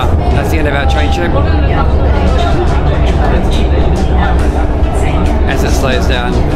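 Metro train cabin as the train slows toward a stop, a steady loud rumble of wheels and motors with rattling, continuous and close throughout, with faint crowd chatter mixed in.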